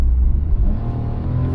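A Hyundai Casper SUV drives at low speed, around 30–35 km/h, heard as a steady low engine and road rumble from inside the cabin without talk.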